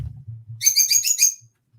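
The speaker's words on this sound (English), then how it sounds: "Love the bird." A pet bird gives a rapid series of high, bright chirping calls, close and clear, over a low rumble that fades to near silence as the calls stop.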